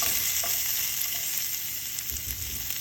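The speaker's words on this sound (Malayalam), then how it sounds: "ചൂടായ എണ്ണയിലോട്ട് കുറച്ച് ഉള്ളി ഇട്ടെടുക്കാം" Onions fry in hot oil for a prawn and drumstick curry, a loud, dense, continuous sizzle close up with faint stirring scrapes throughout.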